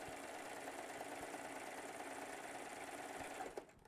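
A serger sewing machine stitches fabric at a low stitch length, giving a steady fast whirring buzz that stops abruptly near the end.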